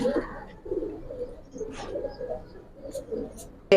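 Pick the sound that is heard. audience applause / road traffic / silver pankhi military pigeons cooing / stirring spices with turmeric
silver pankhi military pigeons cooing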